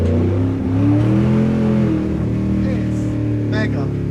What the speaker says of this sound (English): The 7-litre engine is deafeningly loud and sounds vaguely terrifying